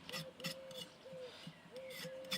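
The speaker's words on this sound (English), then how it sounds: "give it a rough scrape" Rough scraping of a sweet potato skin to clear off soil, a string of short rasping strokes in an even rhythm, close and fairly quiet.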